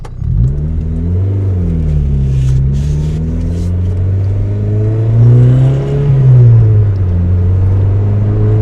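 Boosted Honda Civic accelerating and driving after rear lower control arm and camber arm installation: a loud, steady engine drone rising and falling through the gears, heard from inside the car.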